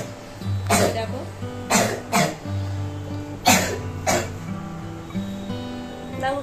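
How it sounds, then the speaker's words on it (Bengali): A child coughing repeatedly in harsh bursts, close by, with some throat clearing, while people talk in the background between coughs. "দেখো কিরকম কাশি।"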